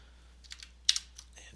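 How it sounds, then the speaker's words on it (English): Light typing on a computer keyboard: a few soft, separate key clicks with one sharper press in the middle, close and quiet over a faint background hum. "I'm using the Control R keyboard shortcut to run it."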